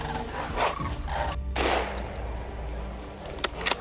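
A loud gunshot booms outdoors during a bear hunt, followed by echoing rumble and a few sharper cracks near the end.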